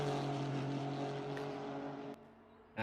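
A Honda twin-turbo V6 race car engine drones in the racing game Assetto Corsa Competizione at Mount Panorama, a steady tonal hum that drops away near the end before a sharp burst of noise.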